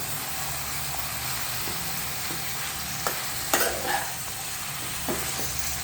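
Cauliflower and capsicum are stirred in a frying pan over a steady close sizzle, with a few scraping spoon strokes against the pan and no voices.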